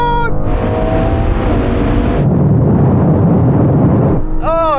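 A BMW M2, Audi RS3, Mercedes-AMG A45 S and Porsche Boxster GTS in a rolling half-mile drag race from 50 mph in third gear, loud continuous engine roar and wind rush with a shifting tone midway, a voice briefly at the edges.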